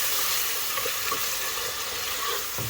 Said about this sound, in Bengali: এখন তো পেঁয়াজটা আমি তেলের সাথে মিক্স করিয়া লবণ একটু মিক্স করে ভালোভাবে কষাইয়া নিলাম